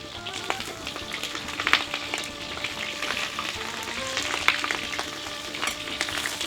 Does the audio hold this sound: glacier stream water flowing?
no